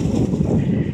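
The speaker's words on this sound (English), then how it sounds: "It's really windy out here, so excuse me." Steady wind buffets the microphone, a low rumbling roar that fills the whole moment without a break.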